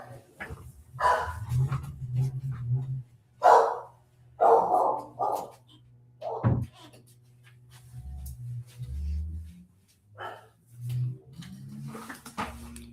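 A dog behind a shut door barks in several separate bursts, some single and some in quick pairs, muffled and moderately near, with low room noise and short gaps between them.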